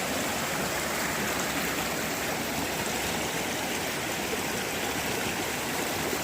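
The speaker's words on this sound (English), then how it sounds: "Another water crossing." A rushing stream at a rocky water crossing on the Appalachian Trail in Virginia roars steadily and loudly throughout, a dense unbroken wash of flowing water with no voices.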